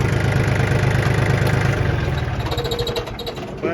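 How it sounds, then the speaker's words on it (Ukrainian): A Yanmar F20D Japanese tractor engine idles steadily at close range, giving a loud, even diesel chug with a rhythmic low throb that turns slightly rougher toward the end, with no talking. "Але заводиться він абсолютно легко, з півоберта"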